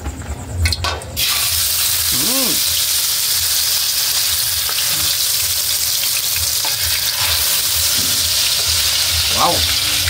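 Eggplant for tortang talong sizzles loudly and steadily in a hot frying pan, a constant frying hiss after a brief clatter at the start, with a couple of short voiced exclamations over it.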